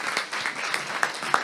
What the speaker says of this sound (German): einen großen Applaus, bitte